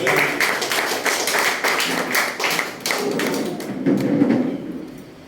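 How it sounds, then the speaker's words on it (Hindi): At a birthday launch of a song collection, a crowd gives a burst of loud, somewhat ragged claps that thins to a few scattered ones and fades out. "जोरदार तालियां भाई आपकी।"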